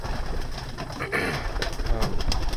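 Pigeons coo steadily inside a pigeon loft, a soft continuous murmur of overlapping calls close by with some rustling.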